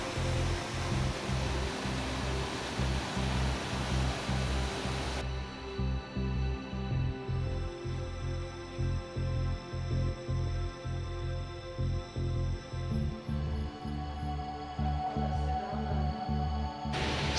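Steady broadband roar of a waterfall seen from a small shelter viewpoint in the Lake District, continuous and fairly loud throughout, with no voices over it.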